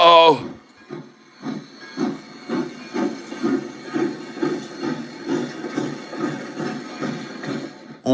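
Train pulling away from a station, a rhythmic chuffing pulse repeating about twice a second with steady hiss over it, moderately loud and continuous.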